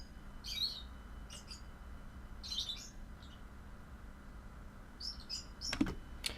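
Several birds chirp in short, bright bursts outdoors, fairly near against a low steady background hum, with a few calls repeating and a faint sharp click near the end.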